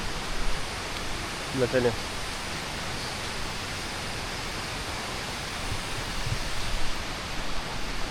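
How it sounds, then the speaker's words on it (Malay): A fast, swollen jungle river near a campsite during heavy rain makes a steady broadband rush that goes on without a break. A voice speaks briefly over the water. "Kalau air deras macam ni, agak-agak dalam mana dia punya air tu kan"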